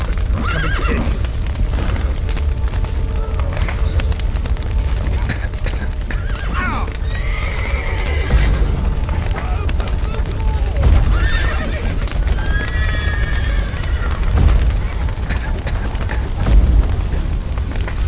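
Horses neigh and whinny with steady clip-clop hooves in The Witcher 3, set against a continuous bed of game ambience with a hint of rain, several whinnies rising through the middle and end.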